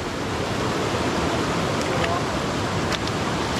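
Broad, steady roar of river rapids at Riam Kencurai on the Sungai Menyakan, continuous and close, filling the scene with rushing water noise.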